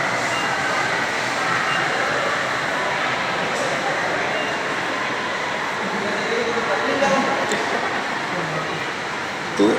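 An MRT metro train in a subway station, a steady broadband rumble and roar filling the space throughout, with faint clanks and a brief sharp sound at the end.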